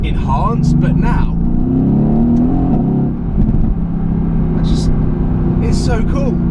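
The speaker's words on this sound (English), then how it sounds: "as good as this car sounds as a stock car with the sports exhaust from Mercedes" A stock Mercedes fitted with the factory sports exhaust idles with a deep burbling rumble that swells in a rev and settles back, loud and close, with a few sharp pops and crackles.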